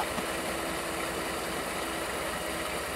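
A 1959 Ford Custom 300 engine idles steadily after a cold first start, having sat outside for 46 years, giving a continuous rough, loud rumble with no voices.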